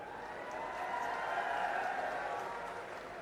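An outdoor political rally crowd in Punjab applauding, a continuous wash of many hands clapping at a fairly distant, even level that swells slightly in the middle.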